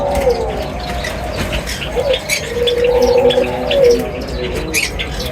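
A ring neck dove coos in a series of soft, rolling calls close by, repeating three times with brief pauses and faint chirps in the background.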